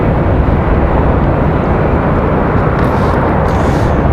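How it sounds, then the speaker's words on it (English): An American Boeing 737-900 from Salt Lake City comes in to land at Raleigh-Durham in strong, gusty wind, a loud, steady broadband jet roar filling the whole stretch without letup. "This one coming in from Salt Lake City, the 737-900, struggling a little bit with the winds."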